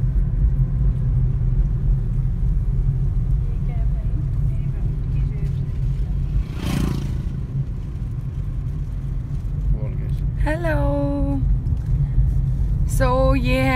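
A Tata Tigor XZA rumbles steadily from inside the cabin while driving, a constant low road and engine drone with a brief swell midway and voices near the end.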